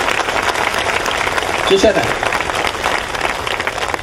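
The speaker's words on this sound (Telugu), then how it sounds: "కనుక చప్పట్లు కొట్టండి ఈ ప్రాంగణంలో ఉన్న గొప్ప యోగేశ్వరులందరికీ కూడా" An audience at a spiritual talk in Ongole claps steadily in a dense, sustained round of applause, with a voice speaking briefly over it.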